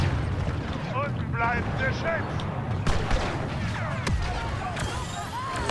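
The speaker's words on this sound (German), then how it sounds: "Wird schon wieder von irgendwo geschossen." Gunfire and heavy blasts echo through a Star Wars Battlefront 2 multiplayer match, sharp shots cracking over a rumbling battlefield bed with whistling laser-like sweeps, while players talk throughout.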